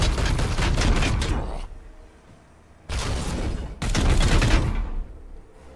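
Support gunfire in Warhammer 40k: Chaos Gate - Daemonhunters pounds out in three loud, dense bursts of heavy weapons fire, each a sustained roar cut off abruptly, separated by brief quiet stretches.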